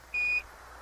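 A lunar module battery warning master alarm on Apollo 13, heard over a radio link as a single steady electronic tone lasting about a quarter second over a hissy, noisy background.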